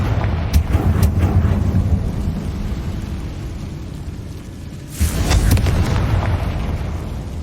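Confringo spell explosions in Hogwarts Legacy, sharp cracking blasts over a rumbling low roar, with a second heavy boom hitting hard partway through.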